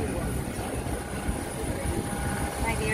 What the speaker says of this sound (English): Could be the same plane.